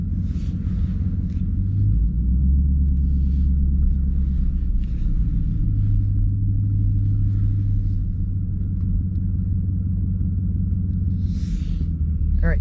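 Dodge SRT car driving around, a low steady engine rumble heard from inside throughout, with slight shifts in pitch as it cruises and no talk.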